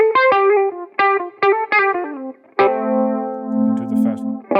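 Electric guitar played through a pedalboard, several sharp plucked notes ringing out, then a harder strum that breaks into a sustained, gritty distorted tone that rings on and slowly decays.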